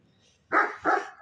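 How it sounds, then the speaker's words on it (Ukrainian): A neighbour's dog gives two sharp barks in quick succession. They are fairly close and clear against a quiet garden background. "Це собака сусідська завжди заважає."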